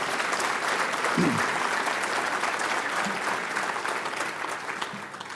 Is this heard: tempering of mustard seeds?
no